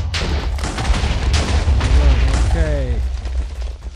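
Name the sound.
TNT explosion blowing up a house in Minecraft video game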